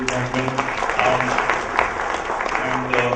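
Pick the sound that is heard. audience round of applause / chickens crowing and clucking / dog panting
audience round of applause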